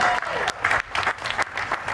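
Outdoors at a trail launch ceremony during a festival, a crowd applauds a band, uneven clapping with occasional sharp bursts and some voices mixed in.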